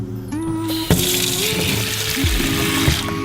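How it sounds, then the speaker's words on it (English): Warm water from a tap runs and splashes into a bowl holding eggs, a steady broadband rush with a few clunks and knocks of the eggs shifting, close and fairly loud. "So I put a little bit of warm water in here to bring these eggs to a more room temperature."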